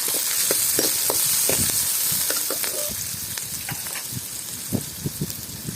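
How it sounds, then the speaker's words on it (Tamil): Capsicum frying in a pan for Gobi Manchurian, with a loud hissing sizzle that eases off and repeated close clicks and scrapes of a spatula tossing the pieces. "அடுத்தது குடமிளகாய், இதை வறுத்துக்கலாம்."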